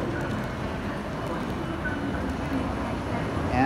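An Osaka monorail train runs past on a cloudy day in a steady, continuous rumble of rail noise, with a low broadband roar that holds throughout and swells slightly near the end.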